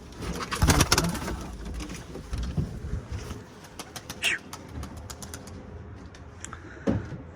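Pigeons in a coop coo and rustle close by, with scattered wing flutters and soft clicks. The birds make uneven, intermittent calls.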